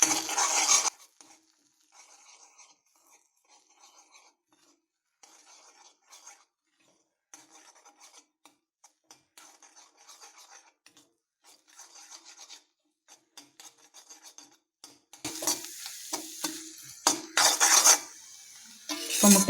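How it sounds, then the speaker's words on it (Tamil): An egg is stirred into frying jilebi fish chukka in a pan with a spatula, giving repeated soft scraping and rasping strokes, quiet at first and then louder bursts of scraping near the end. "இது சும்மா இதை நடுவுலேயே இப்படி மிக்ஸ் பண்ணி விடுங்க போதும்."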